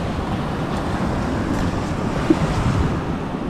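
Sea waves wash onto the shore in a continuous close rush mixed with wind buffeting the microphone, with no talk.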